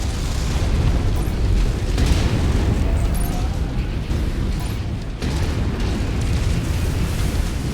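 Heavy weapons fire and explosions in a mech combat video game, a loud, dense, continuous roar of booms and blasts with scattered sharper bursts.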